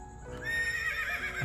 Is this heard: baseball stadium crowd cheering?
no